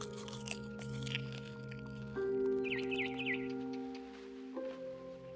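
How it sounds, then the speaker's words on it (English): A barn swallow chirps outside a window, heard in the video game What Remains of Edith Finch: a short burst of faint, rapid high chirps midway, over a low sustained ambient drone and crunchy chewing-like sounds. "Then I heard chirping outside my window. It was a barn swallow going back to her nest."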